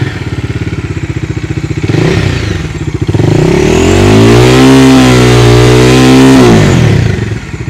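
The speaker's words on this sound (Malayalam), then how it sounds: "ഈ വണ്ടിയുടെ എക്സോസ്റ്റ് നോട്ട് ഒന്ന് കാണിച്ചു തരാം" A 2022 Bajaj Dominar 400 motorcycle idles with a loud, rapid, thumping exhaust beat, then is revved up into a sustained rising roar and drops back to idle, very close and with no voices.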